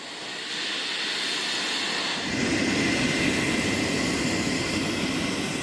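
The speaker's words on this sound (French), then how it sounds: "Un Ilyushin 76 attend sur la piste." An Ilyushin Il-76 Russian transport plane on an Antarctic runway, its engines producing a loud, steady roar that swells midway and holds, with no voices.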